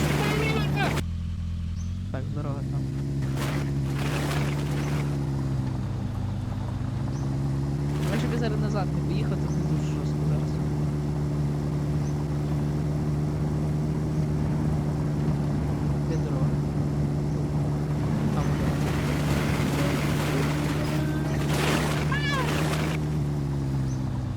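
Car engine droning steadily while accelerating in the video game The Long Drive, a loud continuous hum with slowly shifting pitch, someone talking over it at times.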